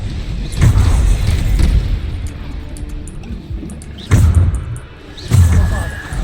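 Bombarda spell explosions from Hogwarts Legacy boom out in heavy, loud bursts, several thuds spaced a second or two apart over rumbling combat noise.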